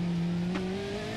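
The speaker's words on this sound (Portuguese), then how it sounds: "Vou dar umas aceleradas quente." A Nissan 350Z engine in BeamNG.drive holds a steady, droning rev, its tone rising slowly over about a second, loud and continuous with no talk.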